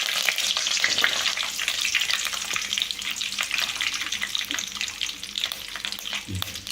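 Garlic frying in a pan for lemon rice, a steady dense sizzle with light stirring scrapes throughout, fairly close and continuous with no talking.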